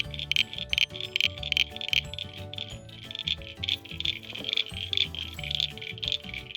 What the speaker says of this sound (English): it's only the male frogs that make the croaking sound